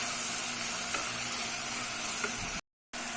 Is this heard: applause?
no